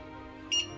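A single short electronic beep from a library book scanner, bright and clear, lasting a fraction of a second over a quiet background hum.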